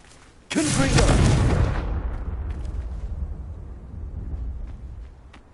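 A single loud blast from the Confringo blasting curse in a Harry Potter video game, erupting suddenly with a sharp burst and then rumbling down into a long fading roar.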